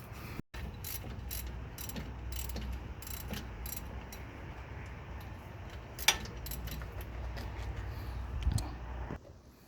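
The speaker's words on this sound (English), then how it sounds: "all I have to do is finish removing that bolt right there, and we should be able to remove the alternator" A ratchet wrench clicks steadily at close range while a bolt is loosened to free the alternator on a 2010 Toyota Corolla, with a few metallic clinks and no talking.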